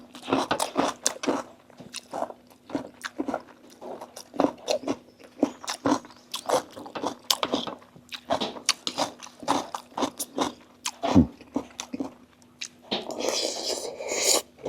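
Close, crisp chewing and crunching of rice with stir-fried okra leaves and egg, in irregular bites and mouthfuls repeating throughout over a faint steady hum, with a brief scraping or rustling burst near the end.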